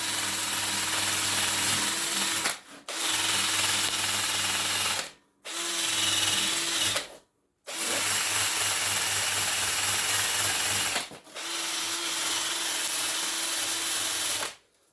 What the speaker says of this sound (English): I would normally run my fan.